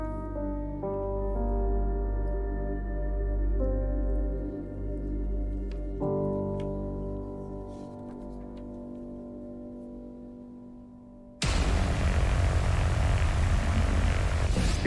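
A propeller airplane approaching to land on a snowy, slippery runway, its steady engine drone holding with stepped pitch changes before a sudden loud broadband roar takes over near the end.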